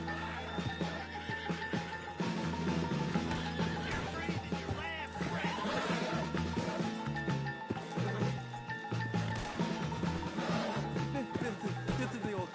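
Horse whinnies and neighs mixed with clip-clopping hooves and a busy game soundscape of crashes and action effects, fairly loud and continuous, with dialogue mixed in at points.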